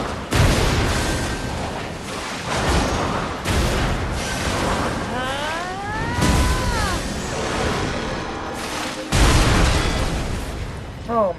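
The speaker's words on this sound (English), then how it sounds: "That final explosion is insane." Explosions and heavy impacts during a boss fight in the video game Lies of P, several loud booming bursts separated by short lulls, with a strained voice-like cry in the middle.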